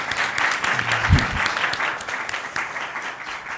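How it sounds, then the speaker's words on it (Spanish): Steady audience applause fills a round-table panel session on Europe, sustained clapping from a crowd with no speech over it. "Damos un aplauso por su intervención."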